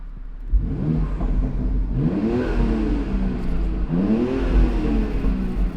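A BMW X3 M fitted with cold air intakes sits in neutral while its engine is revved three times. Each rev rises into a loud intake roar and then drops back toward idle.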